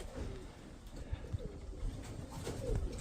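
Soft, low pigeon cooing repeats in short throaty bursts against a quiet, muffled background, fairly close by.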